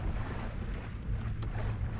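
Wind buffets a sailboat under sail at about 3.5 to 4 knots with the engine off, a steady broadband rush with low rumble and water wash, moderately loud and continuous with no talking.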